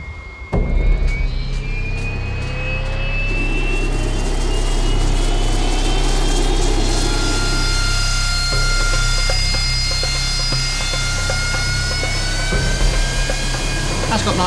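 A military aircraft takes off near a Royal Navy warship, a loud sustained engine roar with a rising whine that fills the whole stretch, with a voice heard over it.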